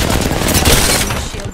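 Rapid automatic gunfire from the Apex Legends battle royale game rattles loud and dense for a second and a half, with game sounds layered over it.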